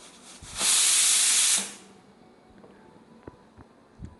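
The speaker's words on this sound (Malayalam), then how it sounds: "കുക്കർ ഒന്ന് അടച്ച് വെച്ച് ഒരു 2 വിസിൽ വരുന്നവരെ ഒന്ന് വെയിറ്റ് ചെയ്യണം" A pressure cooker on a stove cooking egg curry releases one loud, close burst of hissing steam lasting about a second, followed by faint clicks and quiet kitchen ambience.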